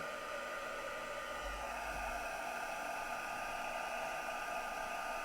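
Embossing heat tool running continuously as it warms up for Christmas card stamping, a steady airy whoosh of hot air with a faint low hum, held alone without talk.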